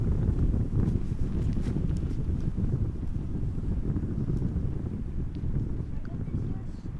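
Strong wind buffets the microphone at Amsterdam Schiphol Airport, a continuous loud low roar that barely eases over the whole stretch, with faint voices mixed in.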